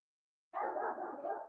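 A dog barks in a single rough, sustained burst that starts abruptly after a moment of silence, moderately loud and close, with no voices over it.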